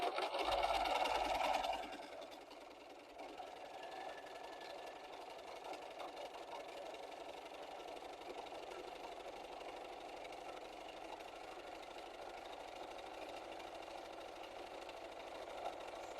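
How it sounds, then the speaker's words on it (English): A sewing machine stitches fabric in zigzag mode with a steady, moderately quiet mechanical hum that runs continuously after a brief louder start. "Now I'm going to switch to a zigzag stitch, which you have to move the fabric slower with"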